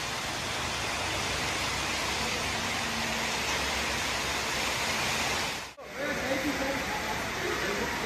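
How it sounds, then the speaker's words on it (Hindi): Hail and heavy rain pour down during a storm, making a loud, continuous hissing roar. It dips briefly near the end, then resumes just as thick. "ओले पड़ रहे हैं, ओले।"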